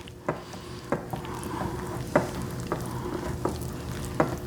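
Pecan pie gooey butter cake batter being mixed in a bowl, with regular scraping knocks of the utensil against the side about every second over a soft background hum.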